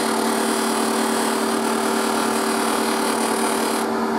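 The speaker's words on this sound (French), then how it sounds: "la meule Tripoli. 2000 tours." A Tripoli polishing wheel spinning at 2000 rpm during light sanding, with a steady, loud, continuous whine and a constant abrasive hiss, unchanging until a slight drop in brightness at the very end.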